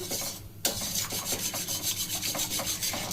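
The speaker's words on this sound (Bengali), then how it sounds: "এইভাবে নাড়তে থাকবো, তাহলে কিন্তু এটা একদমই সুন্দর হয়ে যাবে।" A cocoa ice cream mixture being stirred in a pan, with a close, rhythmic scraping and rubbing of the spoon against the pan in quick repeated strokes, heard alone.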